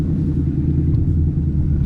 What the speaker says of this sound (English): I want to give it a launch.